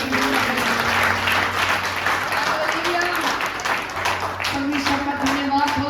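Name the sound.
congregation clapping to praise God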